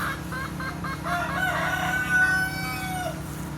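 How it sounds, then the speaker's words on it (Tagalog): A rooster crows over a steady background of clucking hens on a farm, with a low mechanical hum underneath, moderately close. "Ano mga manok."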